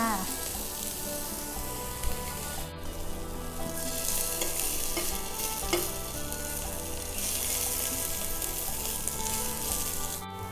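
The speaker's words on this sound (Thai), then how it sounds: "จีปลาทูให้หอมค่ะ" Mackerel frying in a pan, giving off an even, continuous crackling sizzle at close range that holds steady for the whole stretch, with no talking.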